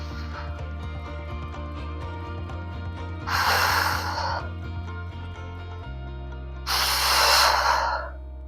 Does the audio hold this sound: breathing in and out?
yes